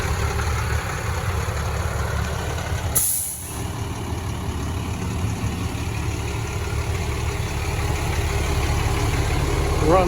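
A Chevy S10 pickup engine idles steadily and close, a smooth low rumble with a brief sharp hiss of released air near the start.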